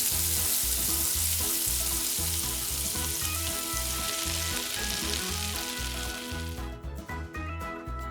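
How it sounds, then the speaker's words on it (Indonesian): Eel frying in oil in a pan, with a loud, steady sizzle and crackle filling the whole stretch and occasional stirring, the hiss thinning slightly near the end. "Goreng selama 10 menit."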